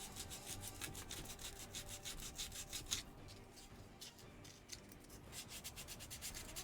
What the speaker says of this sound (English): think that piece of sandpaper is done